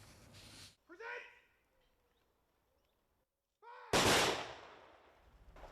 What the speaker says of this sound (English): A volley of blank fire by the Royal Warwickshire Regiment reenactors, part of today's service at Leamington Cemetery.